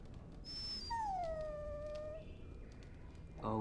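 A dog in the fantasy role-playing game Dragon Age: Origins gives a long, high, wavering whimper that slides down into a drawn-out whine, fairly close and clear, followed by a brief sharp sound at the end.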